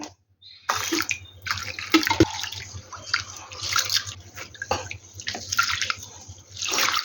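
Rice and toor dal for bisi bele bath washed in water, close up: irregular sloshing and splashing bursts, with running water and drips, separated by short quiet gaps.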